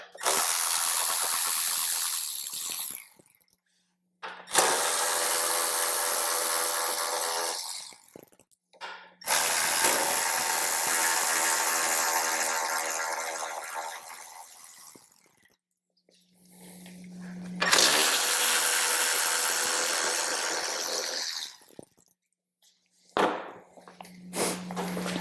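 Bolts on a car's battery tray cover being backed out with a ratchet during an amplifier install, bursts of rapid ratcheting clicks repeating in several long runs, close and fairly loud, with short pauses between.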